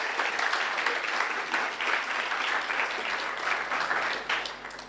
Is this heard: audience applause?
yes